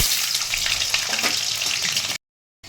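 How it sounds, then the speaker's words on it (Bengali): Potatoes sizzle and crackle steadily in hot oil for about two seconds, a bright hissing fry that cuts off abruptly. "আমি একটু আলু ভেজে তুলে নেব"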